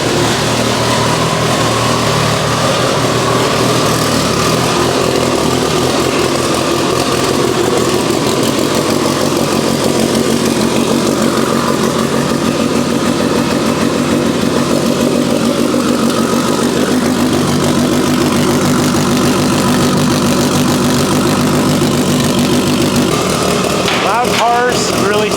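A restored Mitsubishi Lancer Evo 8 idles loudly and steadily for the whole stretch, a rough, throbbing engine drone with a faint background hiss and some clatter at the end.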